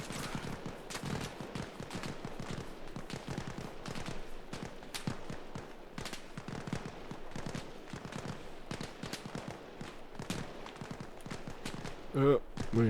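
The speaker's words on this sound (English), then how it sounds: "Oh, that is a serious volume of fire coming back." Heavy incoming fire in the military shooter Arma Reforger, with a dense, steady stream of rapid cracking shots and bursts heard at moderate distance, fairly quiet, with faint sounds of movement toward the end.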